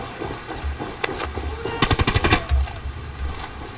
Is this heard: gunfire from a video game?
yes